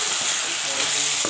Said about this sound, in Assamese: আকৌ ভালদৰে লৰাই দিছোঁ